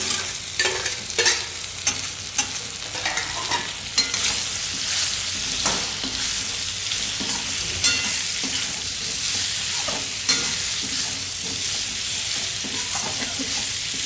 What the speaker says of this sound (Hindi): अब मैं इसमें आलू डालूंगी।